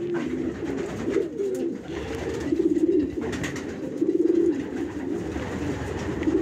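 Homing pigeons coo in soft, repeated low calls during breeding-season pairing, several phrases rising and falling over a faint background hum.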